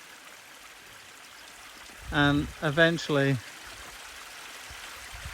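A small stream of running water trickles faintly and steadily in the background on a walk along the Pennine Way, with someone speaking briefly over it.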